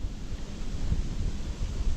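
Wind gusts across the microphone at a lakeside bank-fishing spot on a hot summer day, a steady low rumbling buffet, close and continuous, with no voices.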